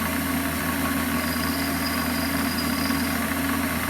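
A Warco lathe runs with a steady, dense mechanical hum and rumble while its carriage is wound back. The sound is close and continuous for a few seconds, with no voices.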